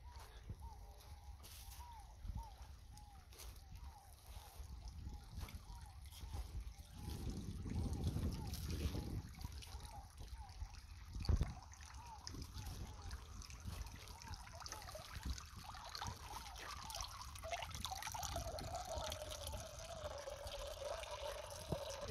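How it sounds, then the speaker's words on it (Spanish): Water flows out steadily at a rural spot where cattle are kept, giving a continuous trickling and splashing that rises briefly mid-way, with faint voices in the background. "Está saliendo el agua bien, perfectamente."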